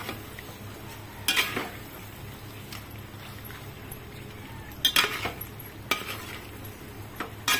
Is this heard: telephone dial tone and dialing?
no